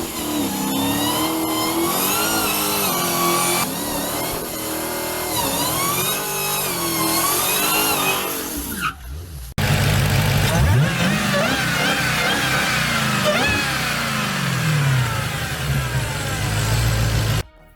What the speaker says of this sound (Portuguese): Essa caixa de engrenagem é famosa pelo seu ruído característico